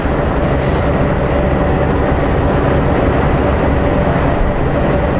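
A loud, continuous rumble and clatter of a fairly long freight train rolling past close by on flatland, steady throughout with heavy low-end roar.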